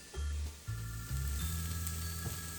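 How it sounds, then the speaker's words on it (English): Radishes sauté in a stainless steel skillet with no oil, giving a steady close sizzle with low rumbling pan noise that swells and shifts in short stretches. "check out the radishes that I've been sauteing. I can hear them going"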